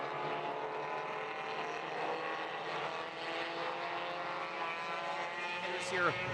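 Race cars rolling off the grid at Watkins Glen during a GRIDLIFE event, a continuous droning engine sound at moderate distance, with a commentator's voice over it.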